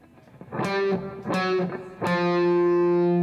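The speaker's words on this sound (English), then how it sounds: "I'm going to be palm muting all of these notes. I'm going to play 5, 4, 3." Three distorted electric guitar notes, each a palm-muted chug with a sharp attack, the last one ringing out longer, loud and close with no talking.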